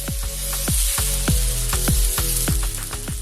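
Masala dosa sizzles steadily on a hot pan, a loud continuous frying hiss punctuated by repeated sharp scraping or tapping strokes roughly every half second, with no talking.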